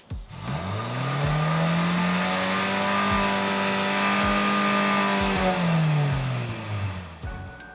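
Exhaust of a 2023 Lexus RX at standstill revs up to about 6,000 RPM, climbing quickly to a loud sustained high-pitched wail held for several seconds, then dropping back to idle, with no talking.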